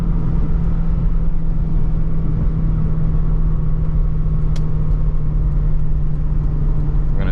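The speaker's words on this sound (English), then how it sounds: "let's hit some downshifts here" A C4 Corvette's engine rumbles steadily from inside the car while downshifting, a low, constant drone with no clear rev spikes and no talk.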